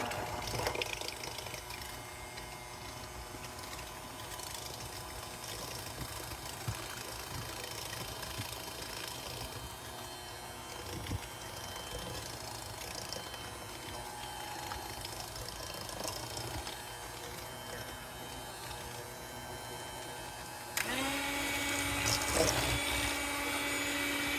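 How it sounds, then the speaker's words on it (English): An electric hand mixer beats three eggs in a bowl for an old-fashioned prune cake, giving a steady, fairly quiet motor whir that runs unbroken and then grows louder and harsher near the end. "now we're going to mix that up with our little handy dandy mixer"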